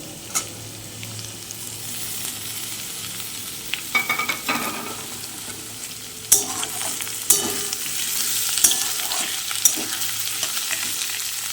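Chopped tomatoes are added to lightly fried vegetables for a beetroot and carrot curry and sizzle in the pan, a steady frying hiss punctuated by repeated scraping and clattering stirs, close up with no talk.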